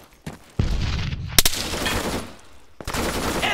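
Gunfire in the ARMA 3 military game comes as loud, sharp bursts of shots over noisy battle ambience, with one sudden cracking shot standing out.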